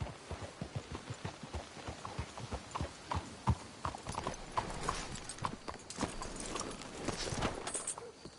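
Brisk, continuous clip-clop of horse hooves close by in Red Dead Redemption, a busy rhythmic clatter of several horses, with an occasional faint whinny.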